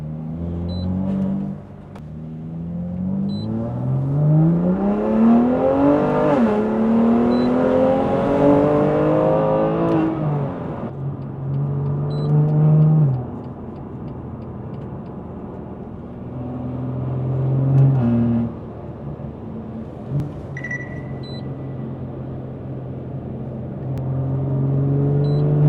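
BMW S55 engine fitted with catless resonated downpipes and an equal-length mid-pipe pulls hard onto a highway, its exhaust note climbing through the revs with shifts between pulls, loud and close with steady road rumble underneath.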